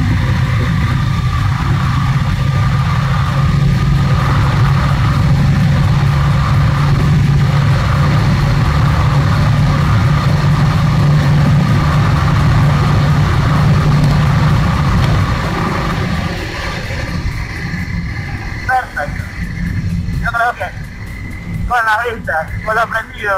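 A motorcycle engine idles with a steady, low drone for a long stretch, then quiets as a voice briefly speaks near the end.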